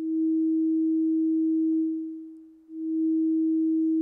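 A single note from the Reason SubTractor software synthesizer holds as a pure, steady tone, dips briefly in level and then swells back up to a sustained level.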